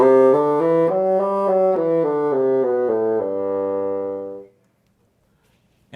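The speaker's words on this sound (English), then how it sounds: "So this instrument that I'm playing right now is a bassoon," A bassoon plays a short run of low, reedy notes that step up and then descend, sustained and close, before the final note fades into silence.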